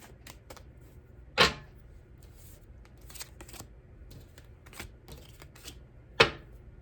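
Tarot cards are shuffled in short riffling bursts, with two sharper loud riffles standing out among quieter flicks and taps, close by.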